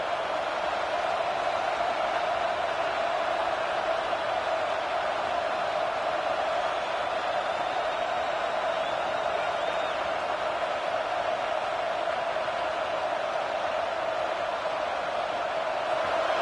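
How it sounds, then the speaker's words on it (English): Stadium crowd noise at a college football game, a steady dense roar holding at an even level throughout without clear peaks. "this crowd trying to help keep them there"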